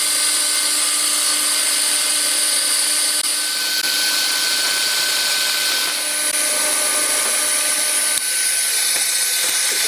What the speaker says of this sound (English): I'm going to use a Forstner bit to drill out some of this material.